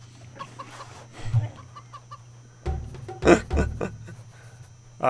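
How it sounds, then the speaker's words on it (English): A chicken-like creature in the video game CHKN clucks in a few short bursts around the middle and end, set against a steady low game hum with faint background chatter. "He's just an elephant crab dog chicken."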